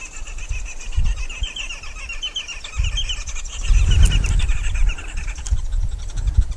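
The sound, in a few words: green woodhoopoe calls on a live safari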